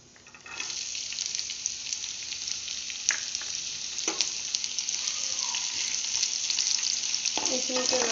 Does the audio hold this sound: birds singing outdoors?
no